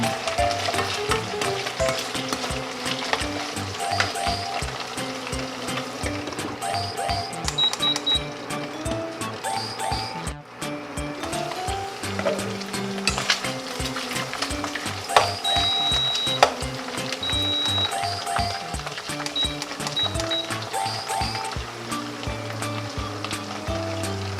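Baguio beans, mushrooms and pork toast in a hot pan with a steady, close sizzle that runs the whole time, broken by clinks and scrapes of stirring and a tonal background bed that sounds like music.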